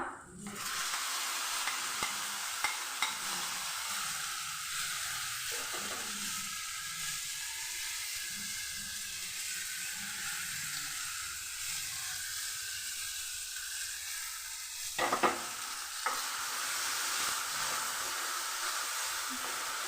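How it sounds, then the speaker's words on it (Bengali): Ground bean paste fries with turmeric and spices in a pan, giving a soft, steady sizzle and hiss with occasional stirring scrapes, moderately quiet throughout and without talk. "মশলার সঙ্গে ভেজে নিচ্ছি।"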